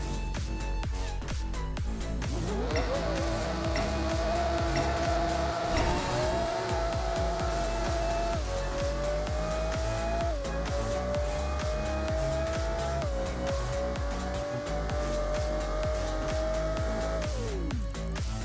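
A tuned all-wheel-drive racing car with nitrous speeds down a half-mile drag strip in the video game Apex Racer, its engine whining loudly and rising through several gear shifts before cutting off at the finish.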